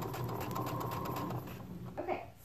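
A sewing machine running a straight stitch along a joined bias strip, a short steady whirring burst that slows and stops near the end, close by, with no one speaking.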